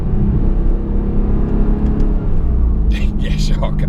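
Mercedes-AMG GT R V8 engine accelerating on the road, a loud, continuous low rumble and whir that builds steadily, with brief higher bursts of noise near the end.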